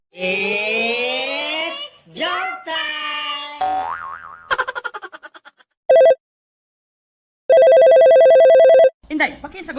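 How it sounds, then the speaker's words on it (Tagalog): A telephone ringing in bursts of electronic trilling tones, loud and close, following cartoonish boing and chirp effects with brief voices mixed in. "pakisagot nga yung telepono"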